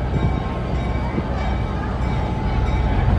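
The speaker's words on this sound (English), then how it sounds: "We've got a train ready to board us." Steady low rumble of a train, continuous and fairly loud, with a faint voice now and then underneath.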